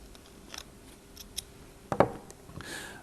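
Small tool scraping and clicking against the copper inner conductor of an RF connector during deburring, a few faint ticks followed by a sharper metallic snip, close and quiet.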